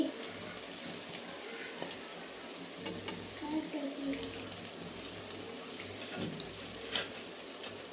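Chicken pieces sizzle quietly in a pan with softened tomato and ginger-garlic paste, a low steady frying hiss with occasional clinks of stirring and faint voices.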